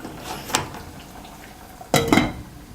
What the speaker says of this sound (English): Now we can just mix it and switch off the flame.